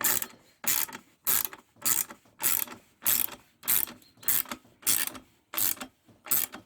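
A ratchet wrench tightens the exhaust clamp on a Kawasaki KX 250 F dirt bike, giving about eleven even, rapid ratcheting bursts in a steady rhythm, close and alone.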